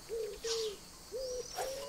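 Sardinian warbler calls in the wildlife game Alba: A Wildlife Adventure, with short tonal whistled notes repeated four times in a loose rhythm, clear and fairly close against a quiet background.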